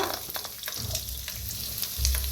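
Garlic dropped into a pan of roasted whole spices, frying with a loud, dense, crackling sizzle and some stirring scrapes, close and without talk.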